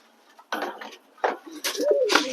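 Several blue satin pigeons jostle over food, their low cooing calls coming in short bursts with pauses between, close by and fairly clear.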